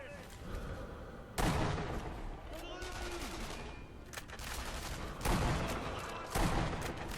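Sniper rifle shots in the video game Sniper Elite V2, with several loud sharp blasts standing out against a dense, noisy battle soundtrack of rumble and gunfire.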